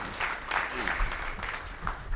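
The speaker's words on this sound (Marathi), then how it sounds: "टाळी वाजवा एक बार" Audience applause at a Marathi kirtan during a Ganesh festival gathering, a dense steady patter of many hands clapping throughout, moderately loud with faint voices underneath.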